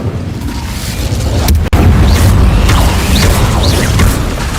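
A fire spell cast in the Hogwarts Legacy video game, a steady roaring burst with a sharp crackling attack midway and several whooshing flares over a dense rumbling bed, loud and continuous.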